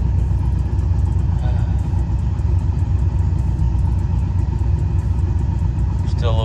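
A car engine idles roughly after being put back together, giving a loud, steady low rumble that continues throughout from close by.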